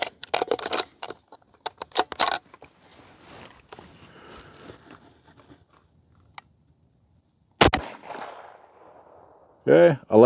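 Gunshots firing Federal Auto Match rounds over a chronograph: several sharp, loud cracks, a quick cluster early then isolated shots later, separated by quiet gaps with faint handling noise.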